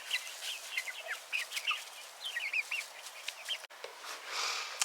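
Backyard chickens cluck and chatter close by, a busy run of short clucks and squawks with a brief pause near the end before a burst of hissy noise.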